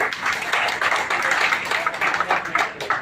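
Audience clapping at a cooperative bank's annual general meeting in Dhaka, a steady patter of many hands, moderately close, continuing for a few seconds.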